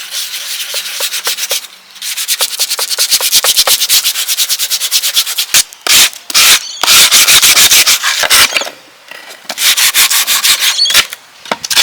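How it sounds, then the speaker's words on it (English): Rapid back-and-forth sanding strokes scrape over a painted wooden box, loud and close, in bursts with brief pauses between runs. "The first thing I'm gonna do is I'm gonna sand it down"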